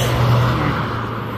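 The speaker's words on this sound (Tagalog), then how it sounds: "ang bibilis ng mga sasakyan" Fast traffic rushing past on an Arizona road, a broad steady roar of passing vehicles heard close by, with a brief low rumble from a heavier vehicle.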